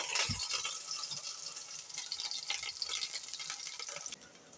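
Soft, steady crackling sizzle of zucchini coated in flour, breadcrumbs and cold water frying in a pan, with a faint clink near the start.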